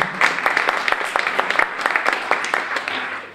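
Applause from a small group at a culture and digital forum, a steady patter of claps lasting a few seconds with some voices mixed in.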